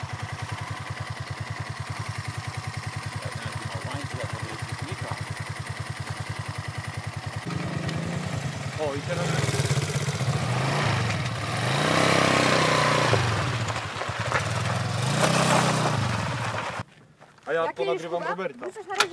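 Engine of a Kayo 180 quad running, a buzzing idle that picks up into louder revving with rising and falling pitch as the throttle changes, with people talking nearby.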